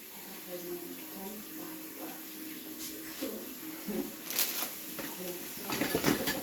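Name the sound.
washing an onion under running water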